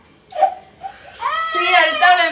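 A young child cries close by, whimpering at first and then wailing in rising, drawn-out sobs.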